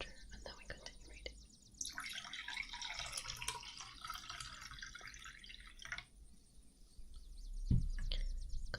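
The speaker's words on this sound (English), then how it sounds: "Let me just fill my glass of water, and then we continue reading." Water trickles and pours steadily into a drinking glass for several seconds, close and fairly quiet, in a calm indoor setting with a soft clunk near the end.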